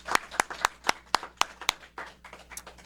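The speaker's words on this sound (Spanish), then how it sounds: "Un aplauso nuevamente." Sparse clapping from a small audience after a talk on the history of poetry, a dozen or so distinct, evenly spaced claps ringing out close and fairly quiet, with a few softer ones blurring between them.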